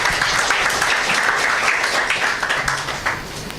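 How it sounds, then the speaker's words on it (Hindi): Crowd applause at a church gathering, a dense wash of many hands clapping that holds steady for several seconds and eases slightly toward the end. "And you can give him another round of applause"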